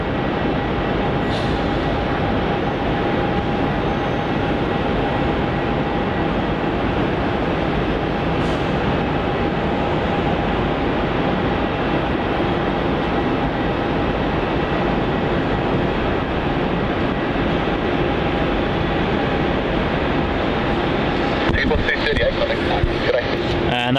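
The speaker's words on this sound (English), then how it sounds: "And that was Singapore Airlines Flight 238 headed off to Singapore, unfortunately using runway 27 for its departure." A Singapore Airlines jet departs from runway 27 at Melbourne Airport, Australia, producing a loud, steady, broadband roar that holds without a break for the whole stretch, with a voice faintly present underneath.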